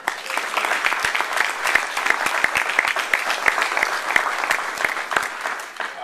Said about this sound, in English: I think they deserve another round of applause for